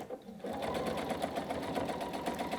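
Sewing machine running steadily as it stitches through layers of quilt fabric while piecing a Hunter Star block, a continuous close whirring hum after a brief quieter start.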